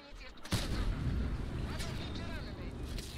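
A tank gun fires in a tank video game, one sudden heavy boom with a long rumbling tail, while a voice talks over it.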